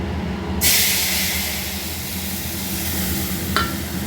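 Spice paste mixed with a little water drops into hot oil, bursting into a loud hiss that settles into steady sizzling frying, close by and with no talk. A brief clink or stir sound comes near the end.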